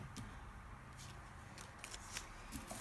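Scissors snip through scraps of craft paper, quiet, close crisp cuts and rustling paper spaced over a few seconds.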